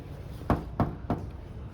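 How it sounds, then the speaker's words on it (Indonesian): Three evenly spaced knocks on the wooden door of an old woman's house, close and clear with no voices. "Bawang merah mengetuk pintu rumah nenek tua."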